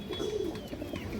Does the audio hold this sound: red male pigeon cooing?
yes